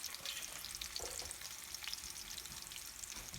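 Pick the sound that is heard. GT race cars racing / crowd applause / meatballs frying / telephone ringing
meatballs frying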